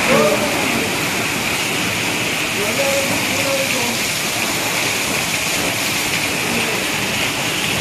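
Heavy rain pours steadily over a village, a dense, continuous wash of water noise at close range with no breaks, loud and even throughout.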